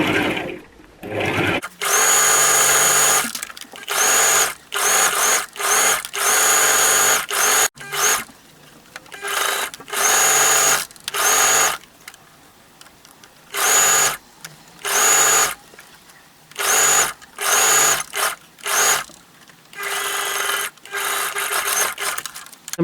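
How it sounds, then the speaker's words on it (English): A sewing machine stitches fabric down onto a shirt collar stand in a long run of close, whirring bursts of varying length, separated by brief pauses. "I'm just going to stitch this down just to hold it onto the collar stand"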